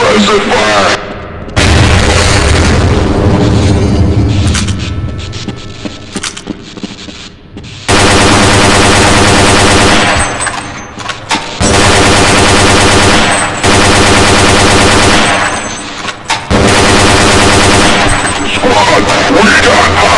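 Loud bursts of automatic gunfire and booming shots from the Half-Life: Blue Shift video game, arriving in several long volleys separated by brief lulls, with shouted voices mixed in.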